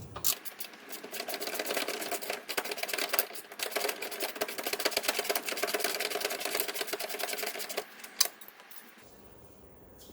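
A nut is worked off the bolt of a Ford Focus XR5 / ST225 rear control arm, with rapid metallic ratcheting clicks running continuously for several seconds, then a sharp clink and quiet.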